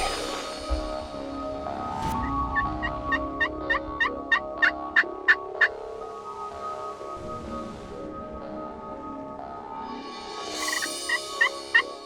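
A wild turkey gobbles at a distance, a rapid series of sharp, rattling notes, then later gobbles again amid outdoor ambience.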